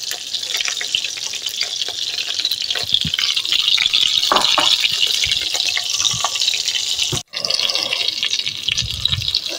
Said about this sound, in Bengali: এই বেগুনটি এপিট উপিট করে ভালো করে একটু সময় নিয়ে 10 মিনিট ধরে ভেজে নিতে হবে